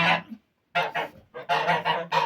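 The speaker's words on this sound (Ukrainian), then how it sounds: "Єдине, що мене непокоїть, це ці гуси. Вони дуже кричать" Geese honk loudly and close by on a pig farm, a rapid series of harsh, nasal calls in quick succession.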